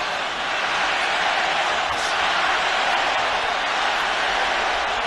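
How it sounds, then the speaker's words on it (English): A boxing crowd at the Canelo Alvarez vs Gennady Golovkin 2017 fight roars in a steady, dense wash of cheering that holds loud and unbroken throughout. "Crowd are getting into it."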